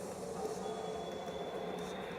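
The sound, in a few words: Hyper Guardian Train boss in video game Sine Mora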